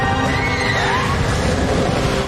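A horse neighs loudly with a long, wavering whinny over a dense, full background of music and effects, with a faint hint of hoofbeats.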